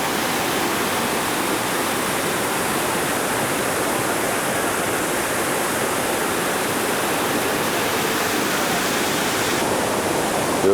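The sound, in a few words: river gushing down a hillside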